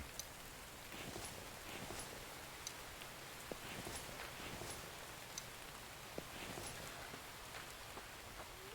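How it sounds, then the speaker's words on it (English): Steady rain falls in the survival game The Infected, a soft continuous patter with scattered faint drop ticks, heard alone and fairly quiet throughout. "Let the rain fill up the planter beds."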